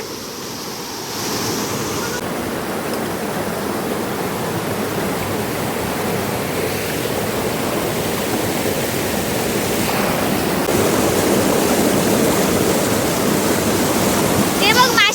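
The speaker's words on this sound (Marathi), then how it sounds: "भरपूर पाणी येलंय बघा, तुमच्या नदीत भरपूर पाणी सुटला।" Rain-swollen village river rushes past in a loud, steady roar of churning water that builds slightly over time, close by and continuous.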